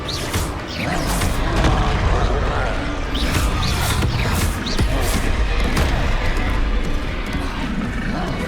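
Confringo spell explosions boom repeatedly in the video game Hogwarts Legacy, a loud, dense barrage of blasts and crashes layered over continuous combat noise.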